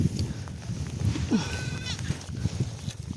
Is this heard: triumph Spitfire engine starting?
no